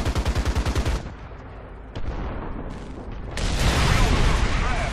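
A tank's coaxial machine gun fires a rapid, rhythmic burst in War Thunder ground combat, then cuts off, leaving engine and mechanical rumble that swells louder toward the end.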